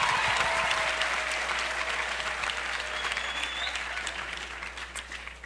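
Sustained applause from a large crowd at a college commencement ceremony, a dense, even wash of many hands clapping that fills the space and slowly tapers in loudness over several seconds.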